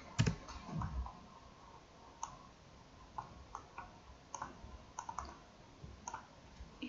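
Quiet, scattered keystrokes on a computer keyboard at an Excel VBA coding session, irregular taps spaced across the stretch with a faint room background and no talk.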